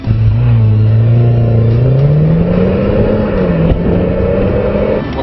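A VW Golf R launching from a standing start and accelerating hard, its engine note climbing steadily and continuously, loud and close with no talking over it.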